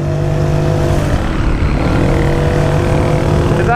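A Honda PCX scooter running with no air filter and a washer fitted in the exhaust gives a loud, steady engine drone with a sustained whistling tone, heard close and constant throughout.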